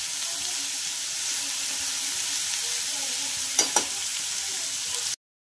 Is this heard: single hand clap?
no